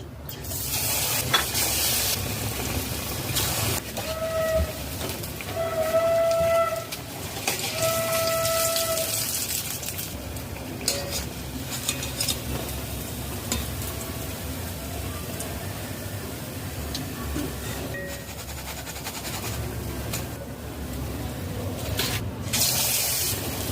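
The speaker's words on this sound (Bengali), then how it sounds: "এইভাবে সব চপ ভেজে নেবো" Banana flower chops frying in hot oil, a steady sizzle running throughout with occasional stirring and clinks, and a few brief tonal beeps near the start.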